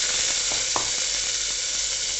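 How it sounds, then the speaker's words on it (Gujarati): Chopped tomatoes hitting a hot pan with garlic paste, a loud steady sizzle and hiss of frying throughout, with a few soft stirring knocks and no talk. "2 ટમેટા છે જેને ચોપ કરી લીધેલા છે તે એડ કરીશું"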